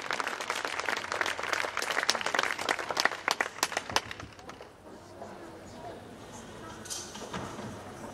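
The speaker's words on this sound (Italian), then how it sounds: "un applauso alla nostra Angelica" Applause from a concert audience after a philharmonic band performance, dense clapping for about four seconds that breaks into scattered claps and fades into quiet room noise.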